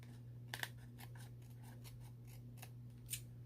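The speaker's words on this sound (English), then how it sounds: "I think I need to cut a little bit more" Scissors snip through paper for a scrapbook layout, making several quiet, crisp cuts at an uneven pace over a low background hum.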